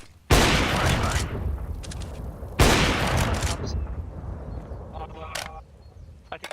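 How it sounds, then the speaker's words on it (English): Two loud, sharp blasts from grenades and flashbangs in a shooter video game. Each burst is followed by a long hissing decay, with smaller clicks and pops trailing afterward. "Incendiary. Throwing a grenade. Smoke. Throwing fire. Flashbang. Flashbang."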